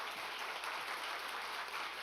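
Lecture audience clapping at the start of a talk, a dense, steady patter of many hands, fairly quiet and distant, continuing throughout with no one speaking.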